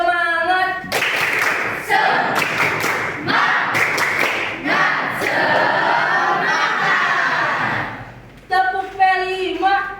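A school class performs a rhythmic spirit clap, sharp group clap bursts mixed with children chanting and shouting in unison, with a teacher's voice before and after.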